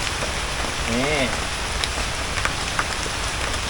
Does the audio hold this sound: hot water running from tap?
no